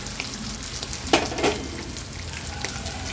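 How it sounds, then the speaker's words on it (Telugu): Ginger paste frying in a hot pan, with a steady close sizzle and a couple of brief stirring scrapes, alone without any talk. "ఇవి పచ్చివాసన పోయేదాకా వేయించుకున్నామండి."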